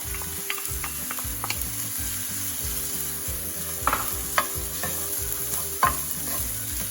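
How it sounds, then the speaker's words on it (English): Frozen rice fries with chicken in a pan, a steady sizzle under repeated scraping and stirring strokes, with a few sharper clacks of a utensil against the pan, no one speaking. "So I'm going to add some frozen rice."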